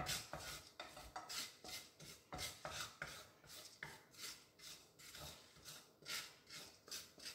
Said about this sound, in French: Je fais revenir mes petits oignons comme ceci.